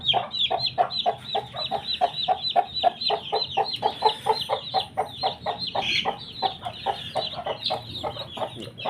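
Newly hatched chicks peep in a rapid, regular stream of high, bright chirps close by, sounding steadily for the whole stretch with no voices.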